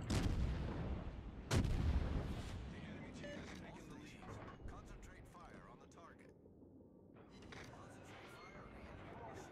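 Naval guns firing in World of Warships, a heavy booming salvo with rumbling low-end tails beneath a continuous wash of game noise, while a voice talks over the action.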